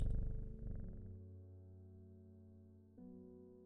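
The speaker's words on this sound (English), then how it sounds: "I forgot to pet the cat." A cat in the game Strange Horticulture purrs softly when petted, a low steady rumble heard alone that fades slightly and swells again near the end.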